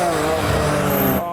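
A BMW M2 drifts on the Nürburgring Nordschleife after rain, its engine roaring loud and sustained as it passes close, with a fading tail at the end.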